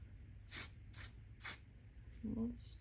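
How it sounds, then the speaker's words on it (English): Three short, bright hissing bursts of spray paint from an aerosol can, evenly spaced about half a second apart, close by, during abstract square painting, followed by a brief low vocal sound. "the spray paint will go over pretty well"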